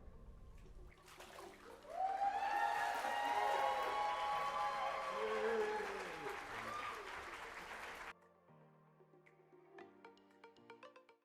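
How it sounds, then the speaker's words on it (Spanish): Loud applause from a church congregation at a baptism swells up and carries on for several seconds over a murmur of voices, then fades into quieter room noise with faint talk. "le damos un aplauso al Señor"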